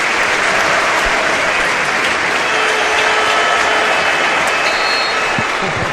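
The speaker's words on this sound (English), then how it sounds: "Generous applause for both." Stadium crowd of Barcelona fans at a football match applauds steadily, a dense, loud, continuous wash of clapping with no break.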